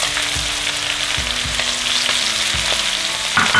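Onions hit hot bacon fat in a pan and crackle loudly and steadily, with soft thumps of stirring recurring underneath; no one speaks.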